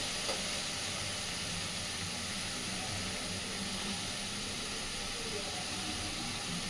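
Fried fish added to spiced masala oil in a pan, a steady faint hiss of sizzling oil with little variation.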